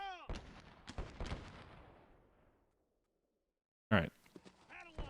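Cannon fire from artillerymen in the Sid Meier's Civil War game at Crampton's Gap: a heavy boom with a long rolling decay that fades to silence, then another sharp blast with crackling follows, under bits of game audio.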